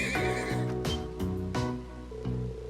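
A horse from the Nord Highlands neighs in the Trails of Cold Steel game, a loud close whinny of several shrill rising and falling bursts over a music bed.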